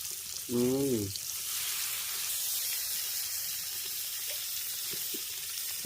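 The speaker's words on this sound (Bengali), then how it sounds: "এই গরম গরম মাছ ভাজা হচ্ছে" Pieces of shol (snakehead) fish fry in a hot pan, a steady, bright sizzle that continues unbroken after a brief voice at the start.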